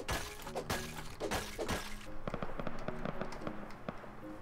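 Distant gunshots in the video game Rust, several sharp cracks and pops scattered through the clip, faint and far off amid game ambience.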